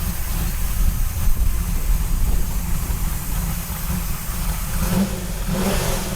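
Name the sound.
Ford Mustang GT500 muscle car engine revving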